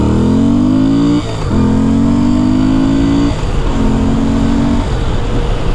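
A Moto Guzzi motorcycle engine roars loud and close while accelerating hard from a standstill toward 60, its pitch climbing steadily, then dropping briefly at each of two or three gear shifts before climbing again.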